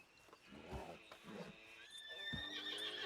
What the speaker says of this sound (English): Scaring all the horses.